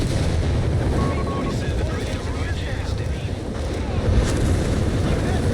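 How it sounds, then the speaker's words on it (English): Rumbling rocket strike explosions in Company of Heroes 3, a loud continuous roar of blasts and battle noise, heavy in the low end with no clear breaks. "Rocket strike here."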